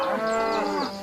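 Several cattle moo loudly and close by, long harmonic calls overlapping one another and rising and falling in pitch with no pause between them.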